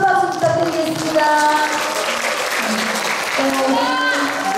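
A crowd applauds at a trot singer's album release event, with steady clapping running throughout, mixed with music and voices.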